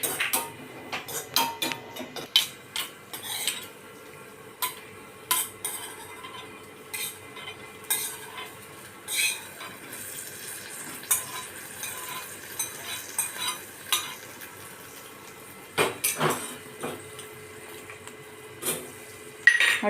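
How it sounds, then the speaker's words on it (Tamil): Cashews and raisins fry in a pan with a soft, low sizzle. Scattered light clinks and scrapes of a spoon against the metal come and go, with a brief cluster of louder stirring near the end. "அடுத்தது திராட்சை இந்த மாதிரி நம்ம அப்படியே பொரித்து போட்டுற போகிறோம்"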